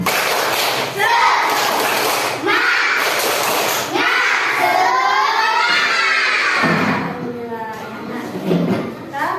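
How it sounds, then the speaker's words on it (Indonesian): Schoolchildren in a classroom doing the 'tepuk semangat' clapping chant, rhythmic claps and shouted chanting from many young voices, with a teacher's voice in between. "Tepuk semangat"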